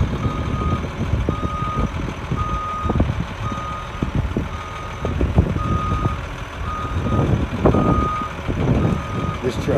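A 1994 Ford LT8000 dump truck with a new box hoist idles with a low diesel rumble close by, while a loud, regular reversing beeper repeats throughout and brief air or mechanical bursts punctuate it.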